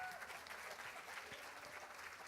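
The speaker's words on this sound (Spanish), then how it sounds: "Si le va a dar el aplauso al Señor," Sustained applause from a church congregation, a dense and even wash of many hands clapping at once throughout, fairly loud with no pause.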